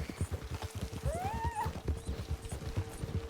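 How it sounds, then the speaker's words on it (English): An Amber Champagne Missouri Foxtrotter in Red Dead Redemption 2 clip-clops along at a steady gait, hooves beating in quick rhythm while the horse gives one rising whinny partway through. "He's riding a Amber Champagne, Missouri Foxtrotter."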